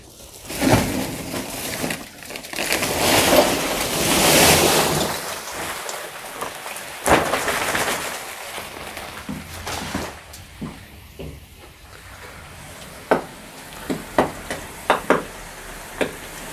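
A bag of chemical dumped into a water tank boils and fizzes violently, giving a loud rushing sizzle with heavy bubbling, then scattered sharp pops and bangs as the reaction continues.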